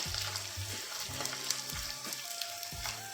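Edible gum (gond) fries in a pan over a low flame, its soft steady sizzle sounding close, with faint scraping stirs and no voices.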